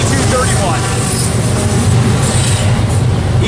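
Eastbound double-stack freight train roaring past close by near Barstow, California, a loud continuous rumble of wheels and cars with faint squeal, while a person calls out over it.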